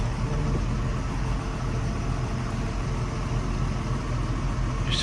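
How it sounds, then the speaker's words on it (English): A feed mixer wagon on a cattle farm running in gear, giving a steady, continuous mechanical drone that stays even and close throughout, with no talking. "we've got our first load going out of the new mixer wagon"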